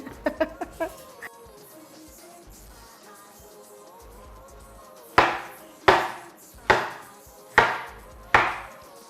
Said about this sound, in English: Let me quickly chop the plantain.